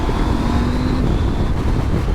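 Husqvarna Norden 901 motorcycle engine droning steadily and loud throughout while overtaking a small Smart car, with wind roar over the engine note and a rising whine.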